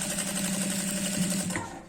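A sewing machine stitches a trouser belt loop in a short, steady, close run of rapid whirring that fades out at the end.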